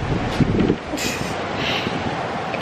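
Wind gusts through an open door at an all-inclusive resort in Tulum, a close, rumbling buffeting with a brief sharper hiss partway through.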